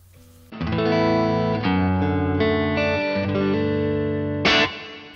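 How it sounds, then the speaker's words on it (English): Electric guitar played through a Boss GX-100 with plate reverb, sustained ambient chords ringing out loud and alone, shifting a few times before a brighter strum near the end, with a lush reverberant tail. "I want the guitar to be quite ambient, so I'm going to turn the effects level up."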